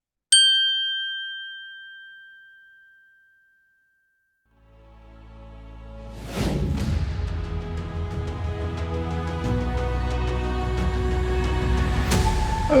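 A bright bell ding rings out alone near the start, a single clear struck tone that decays slowly, followed after a pause by loud music that fills the rest.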